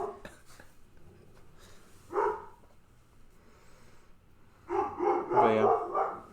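A dog barks a couple of times in a room, short muffled woofs near the middle followed by a louder burst of several barks toward the end.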